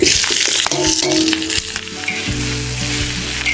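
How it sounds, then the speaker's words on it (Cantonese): Chinese kale and cured pork stir-fry in a hot wok, giving a loud close sizzle with scraping and tossing strokes, and no talk. "炒佢，趁鑊興啊，炒多佢幾下"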